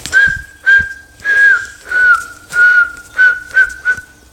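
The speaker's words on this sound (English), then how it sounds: "Whistle. I'm trying to whistle." A person whistles a short tune up close, steady clear notes in separate phrases with small pitch bends, over a few soft low thumps in the background.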